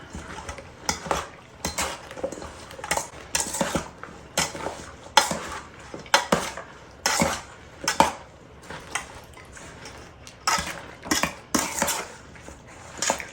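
A spoon scrapes and clanks against a bowl as broccoli salad is tossed and mixed, making repeated rhythmic stirring strokes close by with no talking.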